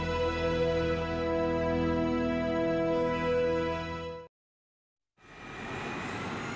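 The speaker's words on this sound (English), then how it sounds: "The two aircraft are following each other on the same runway, but no one can see a thing" Jet airliners taxi on a foggy runway. A steady, loud whining engine drone cuts off abruptly into a second of silence, then a broad, rushing engine roar returns.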